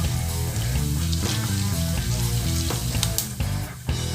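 Cumin seeds and black pepper splutter and crackle in hot oil for mutton Pallipalayam, a steady, close sizzle that runs without a break under a faint tonal background.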